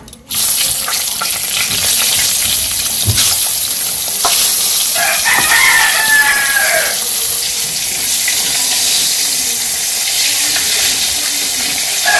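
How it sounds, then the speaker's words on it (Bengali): Eggs seasoned with a little salt and turmeric fry in oil in a wok, giving a continuous close sizzle with a few clinks, while a rooster crows briefly in the background of a village setting. "তো ডিমগুলো ভাইজে নেই, কড়াই তেল দিয়ে দিছি।"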